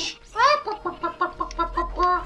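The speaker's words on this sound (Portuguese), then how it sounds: "Por isso que eu falei que tinha barulho de galinha perto." Chicken clucks from the video game The Legend of Zelda: Ocarina of Time, a run of short, bright, chirping squawks in quick uneven succession, fairly close and clear, with no talk over them.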